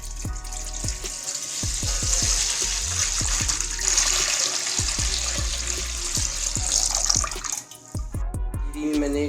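About 1.5 litres of milk poured into a washed pot, a continuous close liquid stream with gurgling and splashing, steady for several seconds before tapering off.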